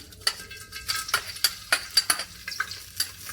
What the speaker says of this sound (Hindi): तो ये ऑयल में मैं खड़े मसाले ऐड कर रही हूँ।